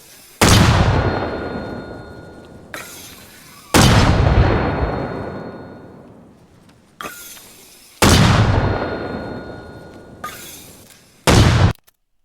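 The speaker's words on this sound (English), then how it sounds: "We're going to fire 4 rounds to see where those rounds hit." Mortar rounds fired in the video game Arma Reforger, four loud booming launches at roughly even intervals, each with a long decaying tail, plus a few sharper short bangs in between.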